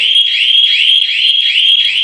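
A loud, shrill security system alarm, triggered in zone 2, sounds continuously with a rapid warbling pulse, close and steady with nothing else audible.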